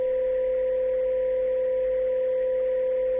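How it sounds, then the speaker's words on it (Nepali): Steady telephone dial tone after a dropped call, a continuous hum with no voices, holding evenly throughout. "Hello, phone कट्यो।"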